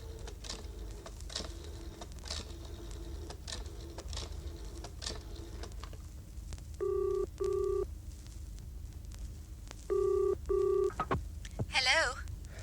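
Telephone being dialed in an older radio-drama setting: two short bursts of clear touch-tone beeps over a low room hum and faint background noise, with no one speaking.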